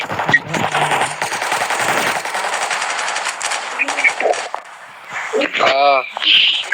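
Rapid machine-gun bursts and single gunshots ring out in the Dead Shot shooting game, coming in loud clusters that break off and restart. Someone talks excitedly over the firing.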